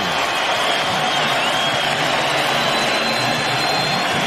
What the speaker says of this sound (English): The crowd losing it, and the Knicks now celebrating